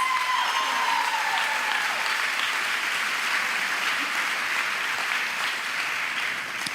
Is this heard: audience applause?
yes